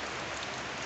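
Steady rainfall makes a soft, even hiss throughout this short stretch, faint and continuous with no talking over it.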